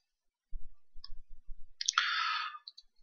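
A computer mouse clicks on a Next button with a few soft, close taps, followed by a short rustling burst.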